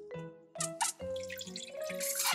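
Water squirts from Bubble Guppies bath toys, Molly and Gil, in several short splashy bursts that grow into a longer, steadier spray, over a bright children's melody.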